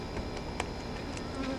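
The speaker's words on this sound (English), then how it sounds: "And the bee's still buzzing me." A bee buzzes close by outdoors in the heat while beehives are being painted, a steady insect drone with a few sharper swells as it circles near.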